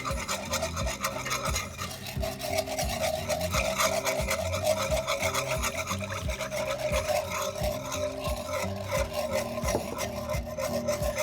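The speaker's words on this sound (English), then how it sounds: "now it's time to whisk in your milk" A whisk beats milk into flour for chicken fried steak gravy in a pan, a rapid, continuous rhythmic scraping and rubbing that keeps an even pace and loudness throughout, heard close up with no talking.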